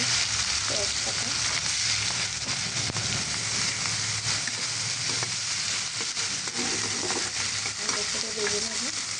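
Bay leaf and fish heads fry in hot oil, a loud, continuous close sizzle with crackling spatter throughout and faint background murmur.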